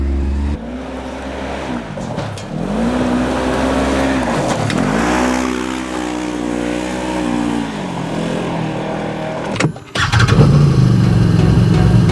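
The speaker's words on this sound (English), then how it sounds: "Let's take the Maverick X3 for a ride." A Can-Am Maverick X3 X DS Turbo RR side-by-side drives hard. Its turbo engine is loud and close, revving up and down through several rising and falling sweeps, then surges again after a brief dip near the end.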